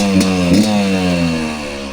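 A Kawasaki KX250 two-stroke dirt bike engine runs close by, loud and steady. It blips twice early, then settles into a buzzing idle that slowly sinks in pitch.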